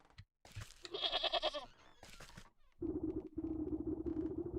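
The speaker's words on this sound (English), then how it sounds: "There's a goat." A goat bleats in several wavering, nasal calls in the game Wytchwood, close and fairly loud, separated by brief pauses.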